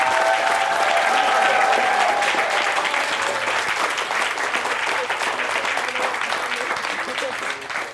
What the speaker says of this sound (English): Can we get a round of applause for our moving up participants?